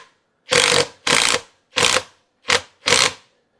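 A RYOBI lag driver drives a lag screw in five sharp, evenly spaced bursts, loud and close with silence between each, and no talk.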